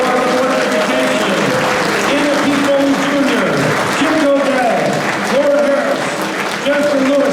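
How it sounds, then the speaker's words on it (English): Applause for the Board of Education at the 2023 Derby inauguration ceremony, steady clapping running the whole stretch with voices talking over it. "Let's have a nice round of applause for the Board of Education"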